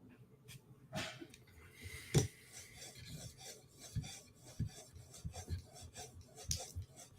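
A steel blade is drawn across a 5000 grit sharpening stone in short, irregular rasping strokes, close and fairly quiet, with a few sharper scrapes between softer rubs.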